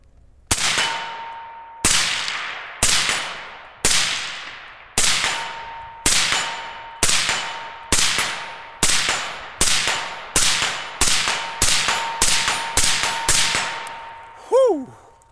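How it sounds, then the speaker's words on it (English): Suppressed rifle shots from a YHM integrally suppressed rifle striking a steel target at 75 yards, about fifteen sharp cracks each followed by a ringing clang, evenly paced and gradually speeding up, with a short whistle at the end. "We're going to get a couple shots down range, and let's just see how it sounds"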